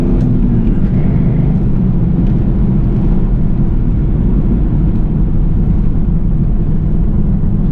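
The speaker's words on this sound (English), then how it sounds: "Road noise is very, very prominent. It is quite loud in here. A lot of wind noise." Loud, steady road roar and wind rush fill the cabin of a 2001 Pontiac Trans Am with T-tops and a six-speed manual while it is driven, a constant low-heavy drone with no talking.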